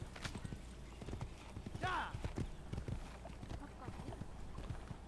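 Steady clip-clopping hooves plod along in Assassin's Creed, with a brief horse whinny partway through and a voice talking over the steps.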